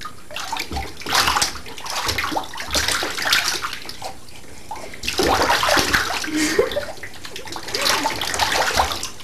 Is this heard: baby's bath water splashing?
yes